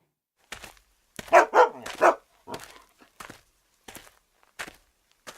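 A dog barks a few sharp, close times, followed by scattered soft steps or taps with silence between them.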